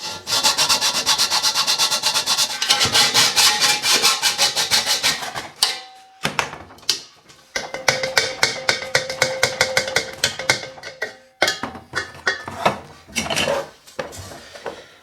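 A hand saw cutting through a metal cylinder for a homemade instant water heater, fast close rasping strokes with metallic ringing and clanks, pausing twice before resuming in uneven bursts.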